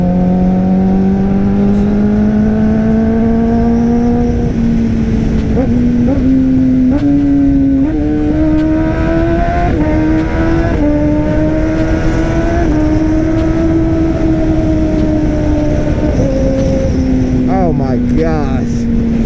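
Kawasaki ZX-10R 1000cc sport motorcycle being ridden at a cruising pace, its engine a loud steady drone that rises and falls slightly in pitch with throttle changes, heavy wind rush throughout.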